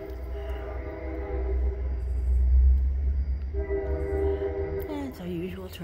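A train passing near a backyard, a low rolling rumble swelling and fading with a sustained tonal horn-like hum, a voice speaking briefly near the end.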